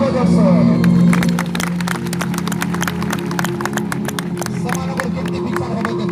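Loud applause from a church congregation, a dense run of sharp hand claps that goes on steadily throughout, with a sustained voice tone at the start.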